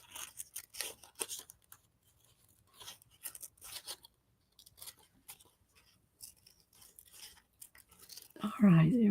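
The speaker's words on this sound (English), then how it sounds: "you just kind of hold your scissors in one spot for the most part, and you turn your image, not your scissors" Scissors cut out a paper image for a collage, producing soft, intermittent snips and rustles while the paper is turned, with a voice talking throughout.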